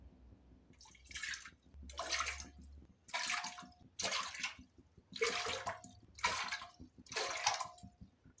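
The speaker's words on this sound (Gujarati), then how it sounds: "8 વાટકી આપણે પાણી એડ કરી દીધું," Water poured bowl by bowl into a pressure cooker holding soaked dal and rice for khichdi, about seven separate splashy pours of roughly half a second each, evenly spaced, close and clear.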